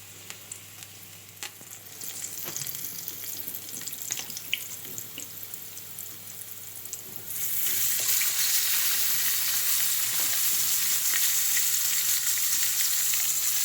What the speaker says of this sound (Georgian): აი გაცხელებულ ტაფას ახლა ეს დავაყარე და დავიწყებ თუშვას